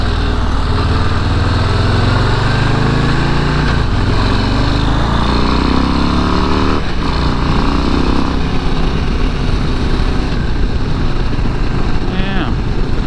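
A Harley-Davidson Low Rider ST is ridden on the road, a loud continuous engine rumble with shifting revs heard from the saddle, mixed with wind noise and occasional speech.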